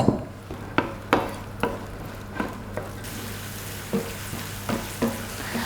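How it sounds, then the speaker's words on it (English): Onions sauté in a pan for tortellini sauce, a steady close sizzle punctuated by regular scrapes and stirs of a utensil. "I'll begin by sauteing my onions"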